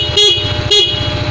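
The horn of a Yamaha Mio Soul i125 scooter gives two short, loud, close honks about half a second apart over the idling engine, with no voices.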